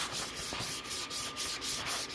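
Steady, even sanding of wood in a shop, a continuous abrasive rub with regular rhythmic strokes repeating about every quarter second, moderately close and alone without talk.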